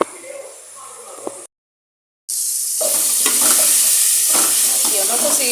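Meat for soup sizzles loudly in a pot on a home stove while being stirred, a steady frying hiss with scraping touches, cut by a brief silence before the sizzle returns at full strength.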